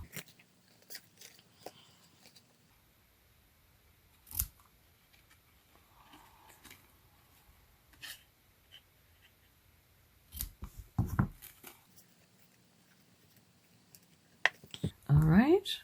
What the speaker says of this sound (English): Then we'll trim the ends.